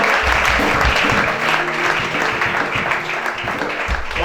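Church congregation applauding during a Gabonese worship service, dense steady clapping sustained throughout at a fairly loud, even level with a faint murmur of voices underneath.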